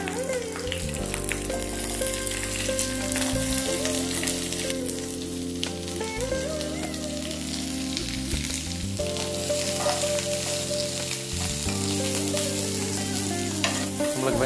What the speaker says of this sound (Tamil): அடுத்தது வரமிளகாய், அடுத்தது கருவேப்பிலை, அடுத்தது வெங்காயம் சேர்க்கிறோம்.